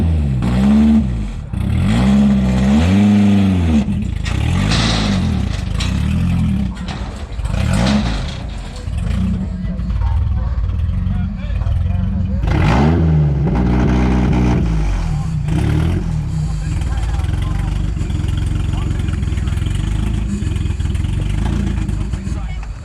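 Demolition derby car engine revving hard in repeated surges, rising and falling sharply, then settling into a rough, clattering idle, loud and close.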